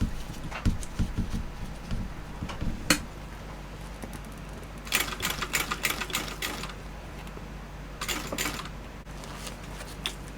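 A sewing machine stitches across the last thick seam of a vinyl and waterproof-canvas bag, running in short, close mechanical bursts with pauses between them, each burst clattering quickly.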